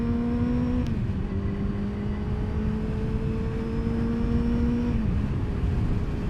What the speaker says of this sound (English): Just like clutchless shifting.